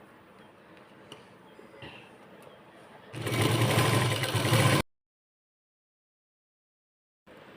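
Sewing machine stitching a sleeve lining, a steady close whirring burst of under two seconds after quiet handling noises, then silence and a faint resumption at the end.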